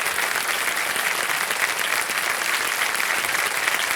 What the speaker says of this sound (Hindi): और जोरदार तालियां बज जाएंगी